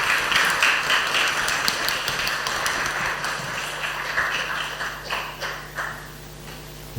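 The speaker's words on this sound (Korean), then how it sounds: "우리 감사한 마음으로 우리 박수로 우리 인사드리겠습니다." A church congregation at a Sunday service claps for the pastor, with dense, steady applause from many hands that holds for several seconds, then thins out and fades toward the end.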